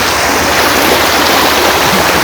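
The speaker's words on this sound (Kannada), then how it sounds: "ಜಲಪಾತ ಜಲಪಾತ ಇತ್ತು" Rushing floodwater pours like a waterfall after heavy rain in Udupi district, a loud, dense, continuous roar of water close by with no pauses.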